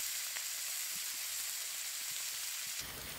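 Fresh, slightly wet garlic and butter sizzle in a steak pan, giving a steady, close, broadband hiss throughout with a few faint crackles and no voices.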